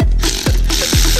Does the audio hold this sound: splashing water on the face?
no